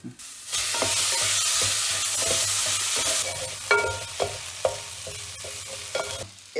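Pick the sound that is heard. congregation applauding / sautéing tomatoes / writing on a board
sautéing tomatoes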